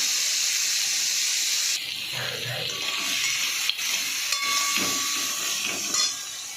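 Crab curry frying in a pan with tomato and chili powder, a loud steady sizzle and hiss with stirring scrapes and bursts of steam throughout.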